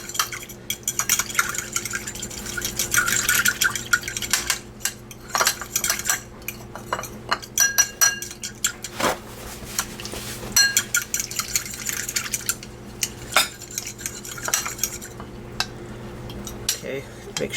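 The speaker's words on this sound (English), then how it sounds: "make sure you got all the cornstarch whisked up" A whisk clinks and scrapes steadily against a metal pot while cornstarch is worked into a crevettes bisque, close and busy with irregular metallic taps throughout.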